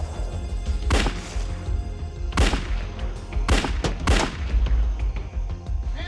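Gunfire from a .357 Magnum and officers' weapons erupts in a dramatised FBI arrest, with four sharp, loud shots spread over several seconds against low rumbling background noise.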